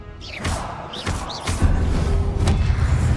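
A Confringo fire-blast spell hits in Hogwarts Legacy: a string of whooshing sweeps and dull thuds, ending in a heavier, louder rumbling impact, with no speech.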